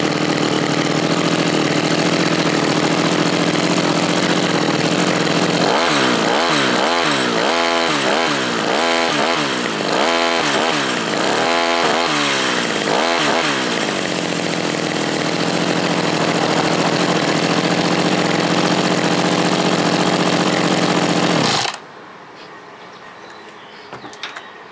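Two-stroke lawn mower engine running steadily and loud, close by, with a rough buzzing drone that wavers in pitch midway before cutting off abruptly near the end, leaving near silence.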